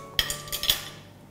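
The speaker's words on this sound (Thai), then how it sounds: "คนส่วนผสมทั้งหมดให้เข้ากันค่ะ" A spoon stirring a flourless cookie mixture in a bowl, a few sharp clinks and taps of metal against the dish in quick succession, then fading into quiet, close and fairly faint.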